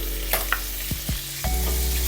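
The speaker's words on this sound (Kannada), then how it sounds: "ಇವಾಗ ಜಿಂಜರ್ ಗಾರ್ಲಿಕ್ ಪೇಸ್ಟ್ ಹಾಕೊಳ್ಳೋಣ." Ginger garlic paste frying in a pan over a medium flame, a quiet steady sizzle with a few stirring scrapes and taps, close up.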